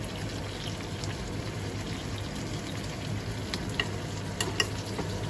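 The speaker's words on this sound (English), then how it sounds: "flip it around a bit more as that onion is caramelizing underneath it" Beef sears in a pan over caramelizing onions for a Berber-style tajine, producing a continuous close sizzle with occasional sharper pops and spatters, and no voices.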